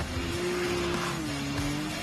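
Engine of a Maverick X3 side-by-side off-road vehicle, a steady revving drone with a sustained tone that dips slightly midway, loud and continuous with no talking.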